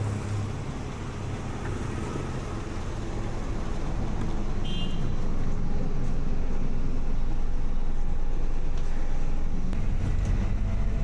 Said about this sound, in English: Now, we'll get on the bus.